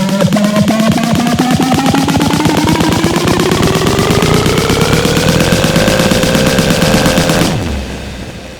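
Electronic riser made on an Akai Force: a dense, buzzing rapid-fire pulse sweeps steadily upward in pitch for about seven seconds, loud and bright, then drops abruptly into a low fading tail.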